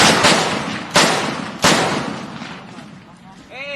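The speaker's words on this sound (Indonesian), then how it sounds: "Selain GPM dia jangan nembak dulu, Sur." Three sharp gunshots ring out during an armed clash between GAM fighters and TNI soldiers in Gampong Matang Lada, North Aceh, each a loud crack with a decaying echo, spaced about a second apart, followed by quieter rustling.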